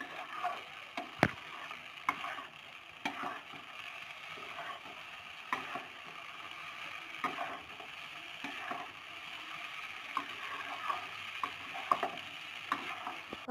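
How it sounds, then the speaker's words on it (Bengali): Pasta sauce fries in a pan with a low, steady sizzle, punctuated by scattered clinks and scrapes of stirring, close and fairly quiet. "তো এবার এটাকে আমি ভালো করে ভেজে নিলাম।"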